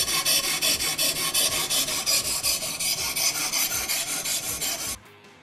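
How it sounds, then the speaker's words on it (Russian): Boride PC sharpening stone rasping steadily along a Kizlyar "Katran" knife blade of 58 HRC steel, worked with Borilube fluid; close, loud, rhythmic strokes about five per second, stopping abruptly near the end. "переворачиваем нож и протачиваем обратную сторону"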